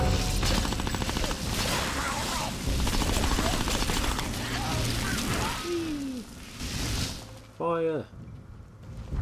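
Gunfire in the video game Conker Live & Reloaded rattles in dense, continuous bursts over game effects, with a brief chirping game sound near the end.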